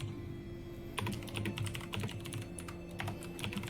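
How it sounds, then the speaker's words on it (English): Rapid, forceful typing on a computer keyboard clatters in dense bursts of key strikes over a low background hum. "Aggressive typing."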